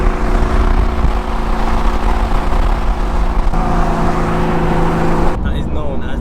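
A V8-swapped Datsun at a Japanese car show rumbles loud and close with a steady, deep engine drone that holds throughout, while people talk nearby.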